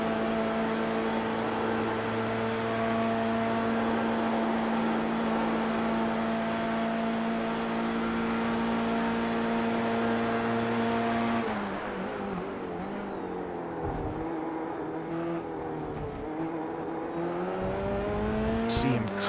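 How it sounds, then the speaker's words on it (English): Formula race car engine roaring at full throttle through the high-speed section at Spa in a racing video game, a steady loud whine with harmonic tones that drops and shifts with gear changes toward the end. "Mark using a lot of track now going through the very high speed section here at Spa"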